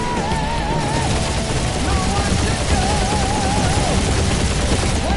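Dense, continuous gunfire rattles through a Guardians of the Galaxy battle, with rapid shots layered over explosions and a wavering whine, loud and unbroken throughout.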